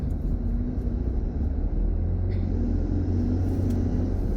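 Steady, close engine and road rumble from inside a car driving in highway traffic on Route 95, a continuous low drone with no voices.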